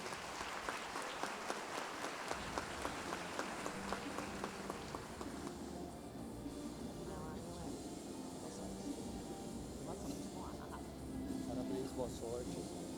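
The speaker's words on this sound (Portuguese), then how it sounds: "Por favor, subam ao palco e recebam os aplausos da nossa plateia." An audience at a hackathon finalist presentation claps, dense crowd applause with sharp individual claps that rises, thins briefly and swells again across the stretch, with faint talk underneath.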